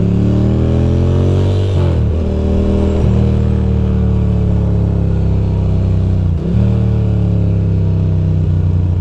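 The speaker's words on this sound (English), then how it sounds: "oh man, this traffic is sucky" Loud, continuous engine drone of a motorcycle riding through traffic, with revs rising and falling a couple of times as the bike shifts and accelerates, close and dominant throughout.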